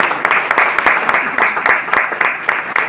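An audience claps loudly and continuously for three seconds, a dense patter of many hands with small surges throughout.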